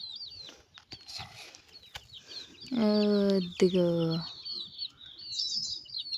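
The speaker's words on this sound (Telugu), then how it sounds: "అన్ని చిన్న కోడి పిల్లలు" High, thin cheeps from small chicks are scattered throughout, with a louder clucking hen call bursting out in the middle; quiet voices are present.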